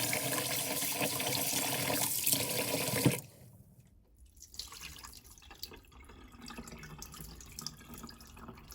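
Basmati rice is rinsed under a running kitchen tap, a loud rush of water for about three seconds, then the flow stops and only soft drips and light splashing remain.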